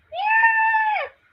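A person imitates an eagle screech with one sustained, shrill, tonal cry of just over a second, rising at the start and dropping away at the end, close and loud.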